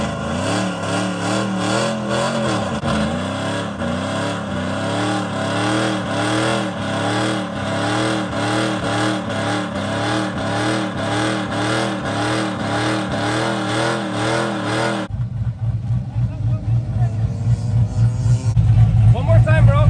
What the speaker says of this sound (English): we're gonna finish it off with a big burnout